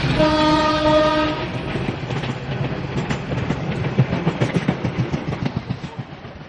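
Narayanganj-bound commuter train departing Dhaka Kamalapur Railway Station: a long horn blast opens, then the wheels clatter over rail joints in a quickening clickety-clack rhythm as the train pulls away, loud and close.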